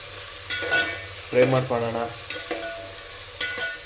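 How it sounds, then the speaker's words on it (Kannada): Tomatoes fry in a pan until soft as a spoon stirs them, each stir clicking and scraping against the pan over a low sizzle, with a brief squeaky tone in the middle. "ಮೆತ್ಕಾಗಂಗೆ ಅದನ್ನು ಫ್ರೈ ಮಾಡ್ಕೊಳ್ಳೋಣ"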